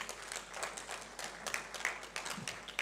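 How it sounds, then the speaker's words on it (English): A launch-event audience gives a round of applause, a moderate patter of clapping hands from a fairly small crowd, steady throughout with a few sharper claps. "A big round of applause,"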